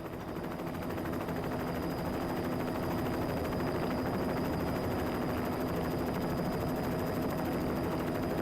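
A helicopter carrying sling loads in a narrow canyon gives a constant roaring drone that fills the whole stretch, swelling slightly at first and then holding steady and loud.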